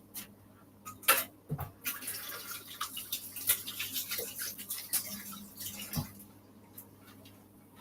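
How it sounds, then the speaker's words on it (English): Hands being washed under a running kitchen tap, a steady splashing water stream with irregular spatters and knocks, close and fairly quiet, with no talk over it. "Let me wash my hands."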